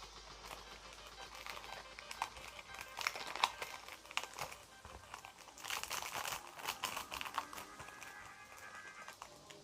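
Plastic packaging around Magic: The Gathering cards is crinkled and pried open, producing faint, close, irregular crackling and tearing rustles in bursts that run throughout.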